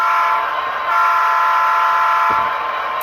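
Bold horn of an Athearn Genesis SD70 Norfolk Southern model locomotive with a Tsunami 2 sound decoder, a sustained loud chord sounding close and alone, with a brief low thump near the end.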